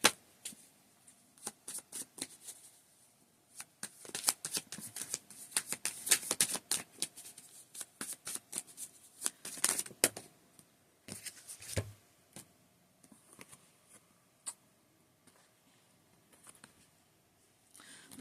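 Tarot cards being shuffled by hand, a quiet, close series of rapid papery riffles and snaps in irregular bursts, with no talking over them.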